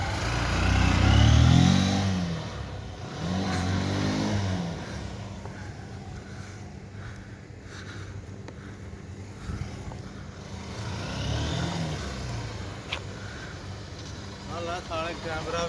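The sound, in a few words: motorcycle riding in Dubai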